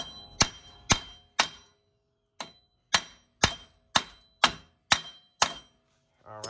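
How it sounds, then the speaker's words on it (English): A hammer striking a nut threaded onto a Dodge Hellcat axle to drive it through during axle replacement: ten sharp metallic blows at a steady rhythm with one longer gap, loud and close. "I'm gonna hit it with the hammer to help push it"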